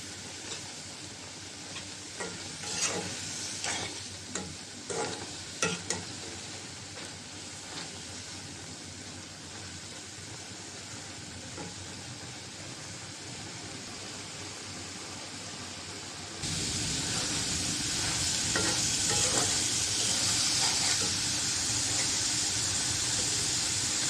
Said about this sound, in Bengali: মাছও দিয়ে দিলাম, কষাই নেব একসাথে।